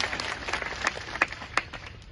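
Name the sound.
audience applause at farmers' meeting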